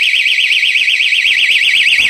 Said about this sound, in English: Examine the door wedge alarm referenced in this video.